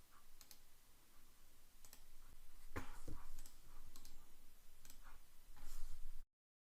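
A computer mouse is clicked repeatedly at a desk, giving a scattered series of faint, sharp ticks spaced irregularly over several seconds against a quiet room background.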